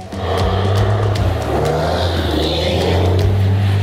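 A loud Ferrari Testarossa engine drones steadily nearby, a deep rumbling roar that holds and swells slightly without pause, with no voices.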